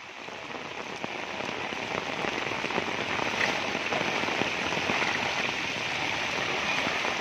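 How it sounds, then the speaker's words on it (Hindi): Heavy monsoon rain falls on flooded village streets in Farrukhnagar block, Gurgaon, a loud, continuous roar of dense drops splashing on water and surfaces that swells slightly and then holds steady, with no talking. "पहली बारिश इस साल की जो इतनी ज़बरदस्त बारिश है"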